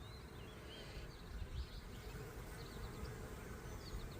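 Honeybees stream out of a large backyard hive, making a faint, continuous outdoor hum with individual bees zipping past now and then.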